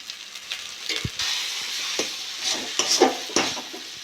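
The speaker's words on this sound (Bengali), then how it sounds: "ভালো করে নেড়ে চেড়ে নেবো, মিশিয়ে নেবো ভালো করে।" Boiled potato and banana-flower mixture with a spoon of gram flour being stirred and mixed in a pan for chop, soft repeated scraping and thuds at close range with no talk.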